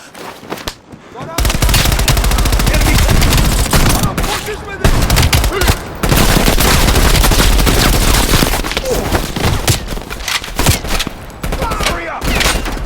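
Rapid automatic gunfire in Call of Duty: Black Ops Cold War, with dense, loud, sustained bursts and booms that barely let up after a brief quiet start.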